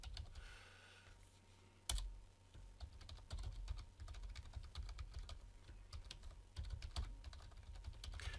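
A password is typed on a computer keyboard as a quiet, irregular run of close keystroke clicks, with a sharper press near the start.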